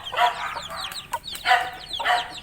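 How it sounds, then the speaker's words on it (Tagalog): Chickens and chicks clucking in a small backyard poultry pen, with three loud bursts of busy clucking and chirping close by, and no talking. "O dito rin, maraming din sisiw."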